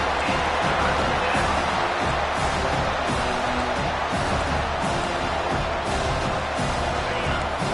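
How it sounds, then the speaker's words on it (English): A football stadium crowd roars in a steady, dense wash of noise during a Miami vs KU game, loud and continuous throughout with no clear breaks. "The roar of the crowd trying to fuel this defense to keep them pinned in their own end."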